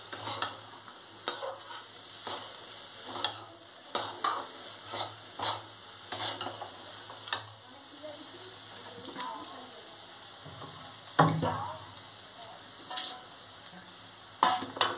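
Rice being stirred and fried in a pan for basanti polao, with repeated scraping strokes of the spoon over a soft steady sizzle, close and fairly quiet.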